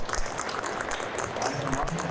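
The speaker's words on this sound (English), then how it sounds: "Give yourself a round of applause," Audience applause fills the room continuously for about two seconds, a dense steady clatter of many hands with crowd noise mixed in.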